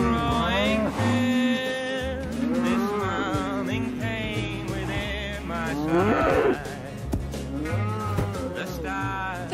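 Cattle moo repeatedly through a night ride in a Western drama, with long, loud calls that bend in pitch and overlap one another over a steady low drone.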